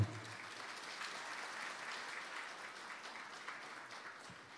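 Faint, even applause from a poetry festival audience greeting a judge as he is introduced; steady clapping at a distance, low in level and sustained for several seconds without talk.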